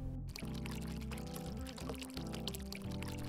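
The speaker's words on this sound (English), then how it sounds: "keep pouring higher until just before the water starts to splash" A steady stream of water pours from a kettle onto pour-over coffee grounds from a raised height, a continuous, even liquid rush at moderate level throughout with no talking.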